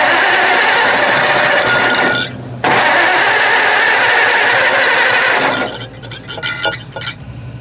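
A Farmall Cub tractor with a rebuilt carburetor and a broken idle tube fires up into a loud, steady engine drone. It dips briefly once, then settles into a rougher, fluttering idle.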